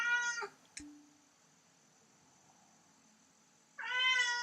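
A pet cat indoors lets out a clear meow, followed by a faint click, a quiet pause, and then another louder, drawn-out meow close by.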